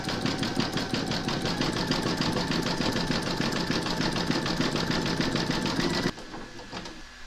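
A sewing machine satin-stitches around a heart on a gnome quilt block, whirring in a fast, even rhythm close by before stopping abruptly near the end.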